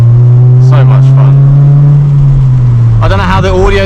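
A Ford Focus Mk1 engine drones loudly and steadily while driving in the rain, its pitch rising slightly and then dropping as someone talks over it in the cabin.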